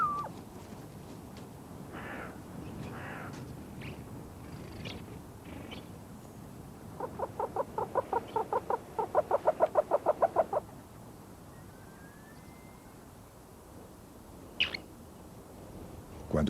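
A snowcock calls in cold, snowy mountains, giving a quick series of rhythmic, clucking notes at a moderate distance that stand out above steady wind and background noise, with a few other scattered calls before and after.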